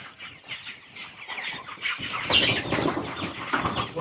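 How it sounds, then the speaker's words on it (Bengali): Broiler chickens on a farm clucking and calling over a busy, steady backdrop of flock noise, growing louder and denser midway through. "ওই যে মুরগিটা"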